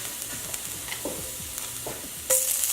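Garlic and ginger sizzle steadily in a pan for a honey chicken dish, with a few soft spoon scrapes and a sudden louder hiss near the end as more goes in.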